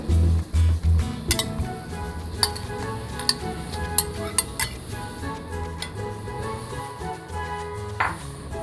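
A utensil stirs a pot of seaweed soup with carrots and fish balls, giving a few soft knocks and then scattered, light metallic clinks against the pot, close and quiet.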